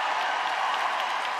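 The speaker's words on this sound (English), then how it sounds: "to see the fans here applauding what was another breathtaking performance" Figure skating fans fill an arena in Boston with dense, even applause, a steady wash of clapping from a large crowd heard at a distance for the whole moment.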